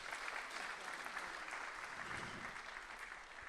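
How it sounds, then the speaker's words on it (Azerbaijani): An audience at a 70th jubilee celebration for a folk ashik singer applauds in a dense, sustained wash of clapping that stays steady from start to finish. "Gəlin, indi Solmaz xanımı bir də mənim adımdan alqışlayaq."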